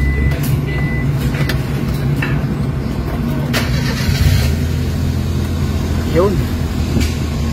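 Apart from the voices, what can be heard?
Suzuki K6A car engine started and running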